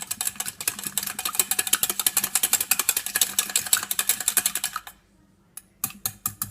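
Egg and egg yolk whisked with vanilla in a bowl, a rapid, steady run of close, bright clicking strokes that stop briefly near the end, then resume in a few short bursts.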